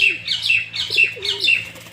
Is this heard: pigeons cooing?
yes